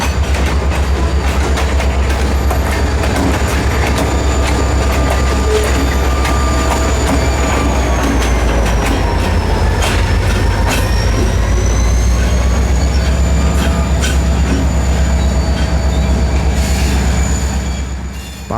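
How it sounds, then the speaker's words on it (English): FEC locomotive 425 shoving a consist of freight cars back onto a rail yard track, a steady loud rumble of rolling cars and engine with drawn-out wheel squeals and flange screeches throughout. "After pulling north of the yard, 425 shoves the consist back onto track 4"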